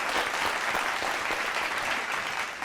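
Steady applause from a small studio audience on a singing show, even and continuous clapping that tapers off slightly at the end.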